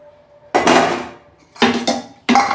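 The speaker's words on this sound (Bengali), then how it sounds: "দেখুন আমি ঢাকনাটা খুলে ফেলছি" Metal lid lifted off a cooking pan of vegetarian okra curry, three loud clattering bursts of lid and pan contact separated by brief quiet gaps, close up.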